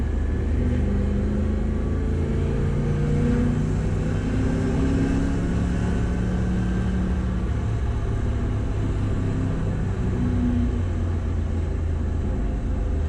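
Engine of a 1963 Chevrolet Corvette Split Window Coupe revving to about 3,500 RPM, a steady loud low rumble that holds for the whole stretch, close and continuous with no voices over it.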